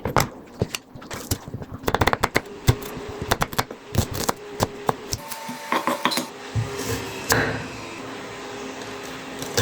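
A knife slices green chillies lengthwise on a board, giving a burst of quick sharp taps followed by scattered clinks and knocks, close and fairly loud.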